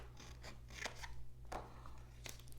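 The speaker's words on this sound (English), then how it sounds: "Draw your line, and that piece gets cut off." Scissors cut through a piece of card in a few short snips, close and fairly quiet over a steady low hum.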